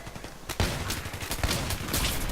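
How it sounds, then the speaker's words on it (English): Shotgun blasts from the 870 MCS pump-action in the video game Battlefield 3, several sharp booming reports in quick succession over a constant bed of battlefield noise, loud and close. "As far as the shotguns go, I like the 870 MCS."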